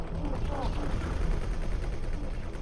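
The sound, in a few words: spaceship weapons firing in X4: Cradle of Humanity video game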